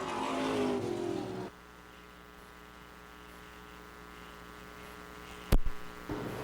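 An overheating dirt track race car runs close by, loud at first, then drops to a low, steady engine hum with a sharp bang near the end.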